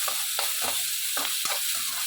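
Onion sizzles steadily as it fries in hot oil in a pan for a home-style Tamil dish, with a few soft scraping stir strokes over a constant hiss and no talk.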